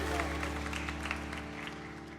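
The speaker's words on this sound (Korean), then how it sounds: "우리 그렇게 감사와 영광의 박수 올려드립니다" A church congregation applauds in thanks and glory during a Sunday worship service, soft continuous clapping over a sustained organ or keyboard drone.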